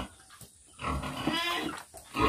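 A mother pig that recently gave birth to three-week-old piglets grunts and oinks nearby, a short run of snuffling calls with brief pauses and no clear talk.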